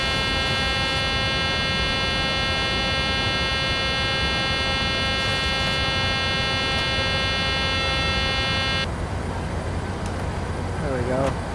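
A steady, loud electronic buzzer sounds in the cockpit of a PMDG 737-800 in Microsoft Flight Simulator 2020, droning continuously with engine rumble beneath, then cutting off near the end while the cabin noise carries on.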